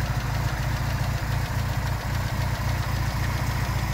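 A standard MGB GT 1.8-litre B-series four-cylinder engine with twin SU carburettors idles steadily and close up, a dense low rumble with even pulsing and no voices.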